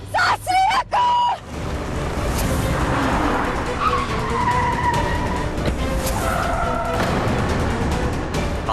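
A car skids to a stop in front, tires squealing in long wavering tones over a loud rushing engine and road roar after a few sharp tonal blips at the start.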